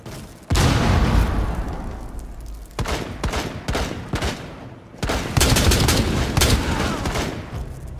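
A frag grenade blast and gunfire in Rainbow Six Siege: a loud, heavy boom, then repeated bursts of close automatic fire with brief gaps, loud throughout.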